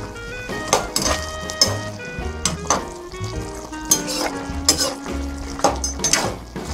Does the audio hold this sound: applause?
no